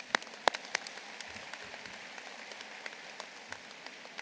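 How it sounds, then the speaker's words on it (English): Applause from a university commencement audience, sparse and distant, with a few sharp nearby claps at the start and then soft scattered patter trailing off quietly. "Let's give him a round of applause."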